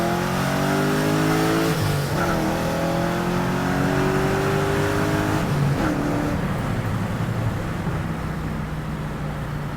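A Pontiac GTO with a 6.0 engine runs and revs through the gears, the engine note climbing and then dropping at each shift, loud and close throughout.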